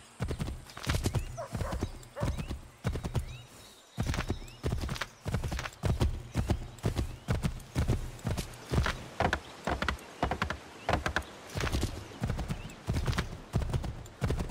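A horse gallops in Assassin's Creed III: rapid, steady hoofbeats drum loud and close for the whole stretch, with only a brief pause partway through and no talking.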